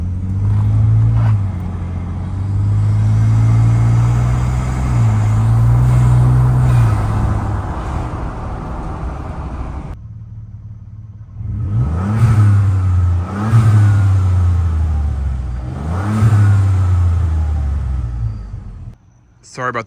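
Turbocharger on a modified Ford F-150 EcoBoost spooling up, a loud rising whoosh and whir over the engine revving in repeated pulls, recorded outdoors with some wind noise.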